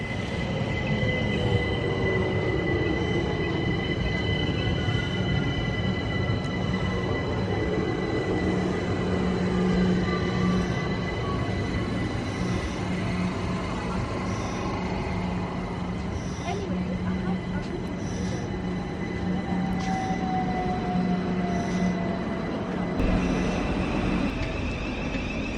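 A passenger train bound for Blackfriars near Denmark Hill rolls past steadily and loudly, a continuous rumble with faint wheel squeals and high tones, ending with a drop in sound near the end.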